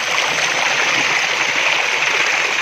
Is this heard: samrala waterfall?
yes